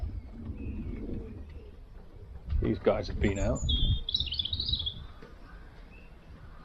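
Young racing pigeons coo softly in a loft, low murmuring calls under a man's brief speech, with a few higher chirps and a bird call rising faintly over the quiet background.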